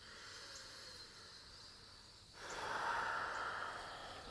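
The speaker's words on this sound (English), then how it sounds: "One more deep breath here." A slow, deep breath during a yoga session for sinus relief: a quiet airy inhale followed by a louder, fuller hissing exhale, close and alone.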